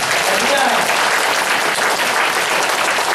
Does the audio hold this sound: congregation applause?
yes